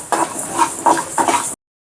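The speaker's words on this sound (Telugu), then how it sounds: "ఈ మసాలా దినుసులన్నీ బాగా ఫ్రై చేసుకోవాలి మాడకుండా" Cumin, fenugreek and mustard seeds fry in a pan for chicken pickle, with a close, crackling sizzle broken by a few distinct scraping stirs. The sound lasts about a second and a half, then cuts to silence.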